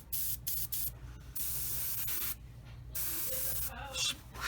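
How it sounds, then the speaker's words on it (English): Paint being sprayed onto an Eduard 1/48 Bf 109E-3 scale model airplane: several short hissing bursts of spray, close and fairly quiet, separated by brief pauses. "spray my paint"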